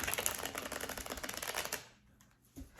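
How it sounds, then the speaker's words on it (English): A tarot deck is riffled in a rapid, crisp flurry of flicks up close, then stops, leaving near silence with a soft tap. "so I need to shuffle the crap out of it here."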